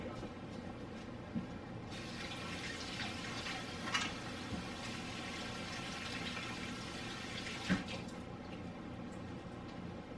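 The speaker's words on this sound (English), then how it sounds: "I'm going to rinse my hands real quick." Tap water runs steadily and faintly while hands are rinsed in a kitchen, a soft continuous wash with a few light knocks and clatters.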